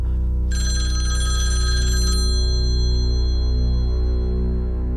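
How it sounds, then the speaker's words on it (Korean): A telephone bell rings indoors: a bright, steady electronic trill lasting under two seconds, then stopping, over a constant low mains hum. "엄마 들어오시면은 이씨 아줌마한테 전화 왔다고 좀 전해줘"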